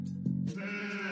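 A single short sheep bleat from the video game Crazy Cattle 3D, close and clear, a wavering nasal cry that slides upward and fades within about a second.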